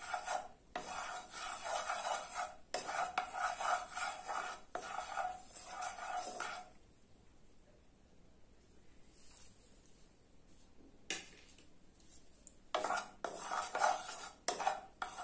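A spatula spreading oil around a kadai, producing loud, rhythmic scraping and rasping strokes in close bursts, with a quieter pause midway before the scraping resumes; no voices.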